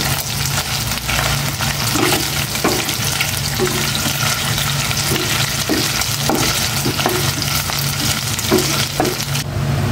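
Pork nearing brown fries in a pan with loud, dense sizzling and crackling throughout, punctuated by repeated stirring and scraping strokes.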